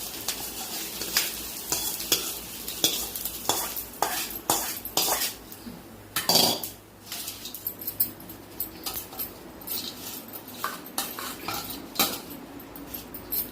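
Tempering (tadka) frying in a pan during home cooking for a Maha Shivaratri puja, with a soft steady sizzle broken by frequent sharp clinks of a metal spoon stirring against the pan, close and fairly quiet, with no talking.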